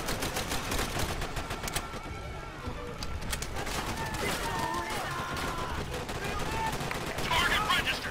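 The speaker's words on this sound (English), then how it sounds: "Keep on firing!" Rapid gunfire in the World War II shooter Call of Duty: World at War, dense crackling bursts and machine gun volleys at middle distance with shouting soldiers' voices throughout.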